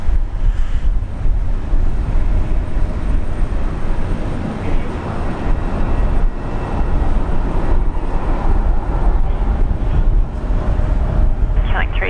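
An Air Niugini airliner at Brisbane airport roars continuously through strong wind buffeting on the microphone, a broad, loud jet rumble that persists without letup.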